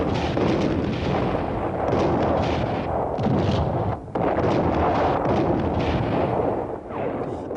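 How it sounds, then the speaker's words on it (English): Sustained artillery bombardment from Six-Day War divisional guns at Abu Agheila, a dense continuous roar of overlapping blasts and rumbling booms, loud and unbroken except for one brief dip, with no speech. "Sharon brought forward the divisional artillery units to soften them up by persistent bombardment"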